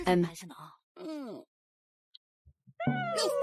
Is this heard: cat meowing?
yes